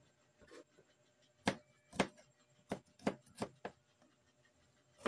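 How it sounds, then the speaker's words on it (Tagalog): Knife chopping garlic on a cutting board during home cooking prep, a handful of sharp, close thuds spaced irregularly with quiet pauses between, no talk. "Maghiwa sa ta sa ahos."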